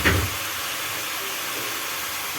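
Washed leafy vegetables drop into a hot pan, starting with a brief clatter and burst, then settling into a steady, close hissing sizzle.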